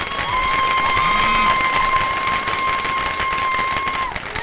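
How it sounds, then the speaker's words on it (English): A comedy club audience of married people breaks into loud sustained applause, dense clapping with some cheering that holds steady for several seconds, with a steady tone running under it. "I'm going to ask you to respond by round of applause. If you're in the crowd tonight, you're married, or if you've ever been married."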